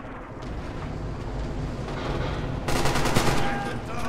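Gunfire and a grenade blast in the World War II shooter Red Orchestra 2, with dense rattling shots building to a louder, sharper burst near the end, over a continuous battle rumble.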